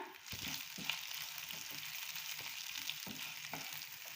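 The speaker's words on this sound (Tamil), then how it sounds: "ஒரு சின்ன துண்டு அளவு புளி, ஒரு நிமிஷம் நல்லா வதங்கினா போதுங்க" Onion, peeled garlic cloves and a small piece of tamarind sautéing in a pan for Mysore chutney, giving a continuous close sizzle broken by repeated scraping stirs of a spoon, with no voices.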